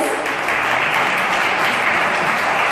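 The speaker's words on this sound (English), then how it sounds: "The third prize goes to Church Assemblies of God, Kuwait. A big round of applause." A large audience gives a steady, dense round of applause for the third prize winner at a Bible quiz prize distribution in Kuwait. The applause is loud and continuous throughout, with no speech over it.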